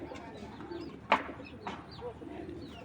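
A racing pigeon at a breeding loft gives soft, low coos under steady background hum, with one louder, brief call standing out partway through.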